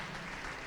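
Congregation applauding during a church worship service, a steady wash of clapping from many hands that fills the short moment without any speech over it.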